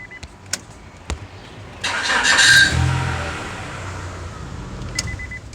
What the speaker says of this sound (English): it sounds like a starter that's hanging up